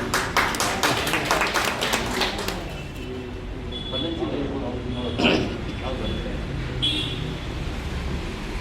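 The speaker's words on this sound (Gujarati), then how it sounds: "ખરેખર એ બધાની હિંમતને આપણે તાળીઓથી બિરદાવવા." An audience breaks into brisk applause at a Jain community gathering, a dense patter of clapping that fades after a few seconds into a quieter room with scattered sounds.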